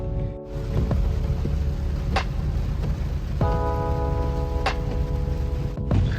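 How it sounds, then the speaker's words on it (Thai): Heavy storm rain drums steadily on a Honda Civic EK2 while it drives, a dense continuous wash with a low rumble underneath and a few sharp ticks and clicks. "ฝนตกเยอะกับพายุเข้าครับ ตอนนี้"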